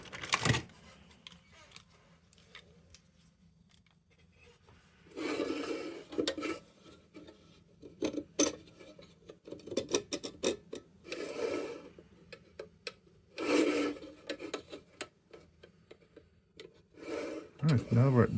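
Metal parts of a RAYO No. 65 lantern are rubbed and rasped during restoration, in uneven bursts of scraping separated by quiet pauses, with occasional low speech.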